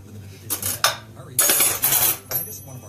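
A fork mashing coconut oil with eggless muffin ingredients in a bowl, giving several sharp scraping clinks of metal on the dish in quick irregular bursts, close and fairly loud.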